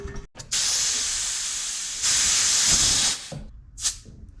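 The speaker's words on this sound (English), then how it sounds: "We're gonna put 80 to 100 pounds of air pressure in this." Compressed air hisses loudly through a Schrader valve into a refillable aerosol spray can being pressurized to 80-100 psi for homemade WD-40, in two sustained bursts followed by a short, quieter puff, with no talking.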